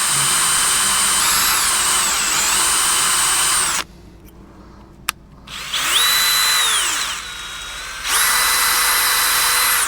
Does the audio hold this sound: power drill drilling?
yes